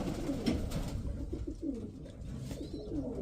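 Pigeons cooing nearby, soft repeated low coos in irregular rhythm over light background noise, with no talking.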